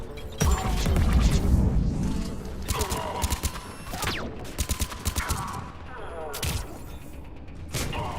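Grenade detonation in Mass Effect, starting with a deep, rumbling blast near the start, followed by sharp cracking bursts and rapid shots in a chaotic firefight, with faint talking mixed in.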